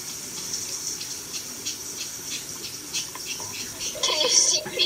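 Water from a shower runs in the video game Roblox as a steady hiss, with voices talking and exclaiming over it and a louder burst near the end.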